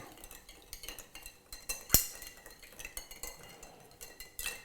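Ice clinking in a cocktail glass as a drink is chilled straight in the glass, a steady run of small, quiet glassy clinks and rattles with one sharper knock, close and with no talking.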